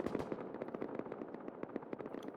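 AK rifles fire in rapid bursts during a 4v4 Rust tournament fight over crates, a crackling stream of overlapping shots, some near and sharp, others more distant, with no voices.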